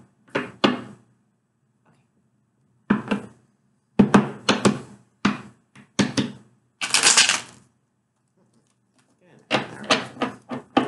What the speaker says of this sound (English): One more shuffle and we are good.